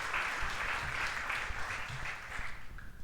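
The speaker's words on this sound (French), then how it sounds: "Un applaudissement pour Hoda." Modest applause from a parish congregation welcoming its eldest member, a steady muffled patter of clapping heard at some distance, fairly quiet and even throughout.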